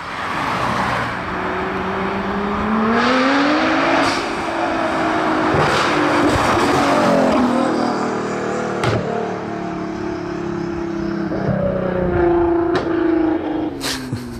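A loud 700-horsepower car shooting flames from its right exhaust roars past close by at the roadside, revving and shifting gears with a throaty exhaust that rises and falls over several seconds.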